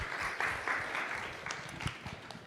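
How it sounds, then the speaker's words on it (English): Light, scattered clapping from a modest conference audience at a tech summit talk, faint and brief with a few distinct individual claps standing out before it fades. "So a round of applause for Viet,"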